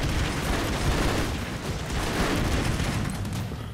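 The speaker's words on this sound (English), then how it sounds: "Whoa, explosions!" Continuous loud explosions in the side-scrolling action video game Broforce, dense broadband booms and bursts rolling on without a break for several seconds.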